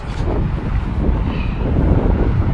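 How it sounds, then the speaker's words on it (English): Breezy outdoor wind buffets an unattached microphone at a truck stop in Lincoln, a steady low rumble with gusting swells throughout and no speech. "I know it's a little breezy, and I don't have the mic hooked up"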